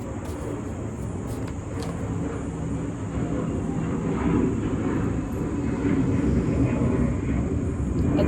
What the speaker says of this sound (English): Sorry for the airplane.